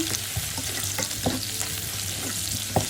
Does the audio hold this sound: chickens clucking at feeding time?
no